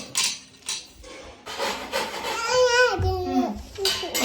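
A PVC pipe being cut to length by hand for a handmade kavadi prop, giving a rough rasping, sawing scrape in uneven strokes, close and fairly loud, with a faint tonal squeak in the middle.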